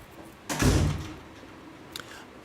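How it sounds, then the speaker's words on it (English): An interior door pushed shut with one solid thud, fairly close and loud, followed by quiet room tone and a faint small knock a moment later. "Close the door."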